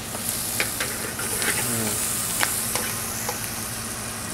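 Garlic and onion sizzle in a hot pan with a faint, steady hiss, broken by a few light clicks and scrapes of stirring, heard close and quiet with no voices.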